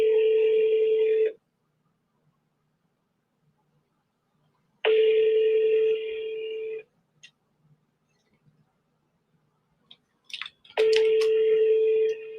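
An outgoing telephone call rings unanswered: three long, steady electronic ringback tones separated by several seconds of silence, with a few faint clicks in the gaps.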